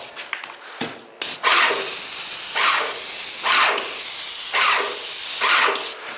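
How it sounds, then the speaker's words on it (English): Repeated loud hissing bursts of an airless paint sprayer with a 310 tip spraying tongue-and-groove board inserts, several sprays in a row with brief gaps between them, close by. "We're going to spray those inserts."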